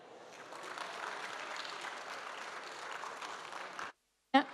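Audience applause at a pitch session at the Paris Air Lab during the 2025 Paris Air Show, a steady, dense clapping that lasts about four seconds, then cuts to silence before a brief loud burst at the end.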